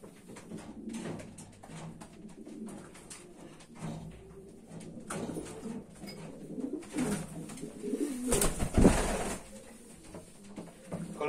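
A racing pigeon in a breeding loft coos softly in short repeated bursts amid faint rustles and shuffles, with a louder brief knock or flutter near the end.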